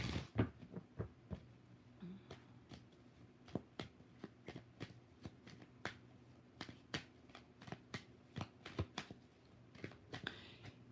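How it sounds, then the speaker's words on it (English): A tarot card deck being shuffled during a live reading, faint sharp riffling snaps repeating in an irregular rhythm over a quiet room hum. "We're going to do 4 shuffles, by the way, so one more."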